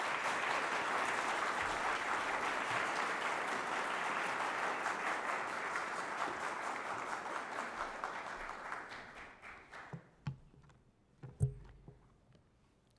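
An indoor audience at an anniversary event applauds steadily for a speaker, a dense clapping wash that thins out and fades into a few scattered claps near the end.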